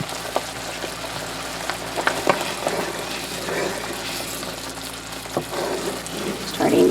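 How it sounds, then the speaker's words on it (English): Refried beans cook in a pan with a continuous close sizzle and bubbling, punctuated by occasional clicks and scrapes of a utensil, growing slightly louder and thicker at the end. "While this cooks just a little bit"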